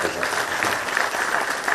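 An audience at a medical study orientation gives a round of applause, dense steady clapping from many hands that fills the whole moment, fairly close, with some crowd noise mixed in.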